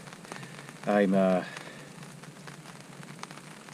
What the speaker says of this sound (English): as soon as I get a fire going, it starts to rain